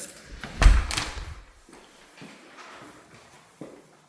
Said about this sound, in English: I'll go through the other door.